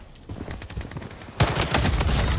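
Rapid MP5 submachine gun bursts in the shooter game Blood Strike, a loud, dense automatic volley that starts partway through and continues to the end.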